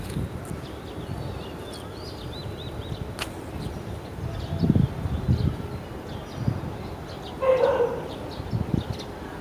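Small puppy giving a few yips and short barks outdoors along a fence among rustling plants, faint and intermittent against background noise.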